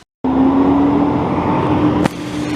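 Loud, close traffic on a busy Montreal street, with a sustained engine drone and a steady tonal whine that cuts abruptly to a sharp burst, then continues slightly quieter; no one speaks.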